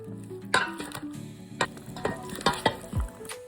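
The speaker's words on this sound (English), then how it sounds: "put it over the salad, and we're gonna mix this all together. We're gonna toss this." Roasted golden beet salad being tossed with maple Dijon vinaigrette, goat cheese and candied walnuts, giving a series of close, irregular clinks and scrapes of utensils against a bowl over a quiet background.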